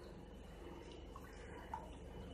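Water poured into a pressure cooker while making milagu pongal (pepper pongal), a faint, steady trickle and patter at moderate distance, continuous throughout with no talk.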